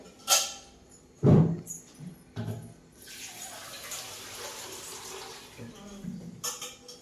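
Water splashes as it is poured onto a tree outdoors in hot sun. A soft, uneven stream runs for a few seconds, with a few knocks beforehand and people talking nearby.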